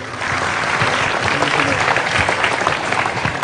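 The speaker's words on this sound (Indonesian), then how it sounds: "Tepuk tangan untuk Indonesia" A crowd in a gathering claps steadily and loudly for several seconds, dense and continuous, with voices mixed into the applause.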